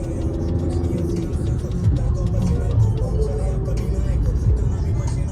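Road traffic rumble with a car passing close by, a swelling engine and tyre roar over a steady low drone, while someone talks throughout.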